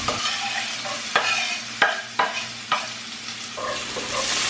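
Onion dropped into a hot oiled pan sizzles steadily, with a few sharp clicks and scrapes of stirring punctuating the close, continuous frying hiss; no talking.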